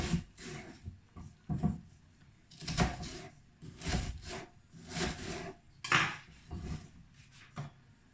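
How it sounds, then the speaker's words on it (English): A knife cuts through an onion, halved and laid flat on a chopping board, in a series of separate thuds and woody knocks spaced about a second apart. The close, moderately loud chops come with light rubbing between strokes. "cut your onion in half and then lie it on the flat side and just cut into 4"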